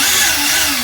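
A Tamiya TT01E RC car's electric motor screams at full throttle in a short, loud, high-pitched whine, with no voices.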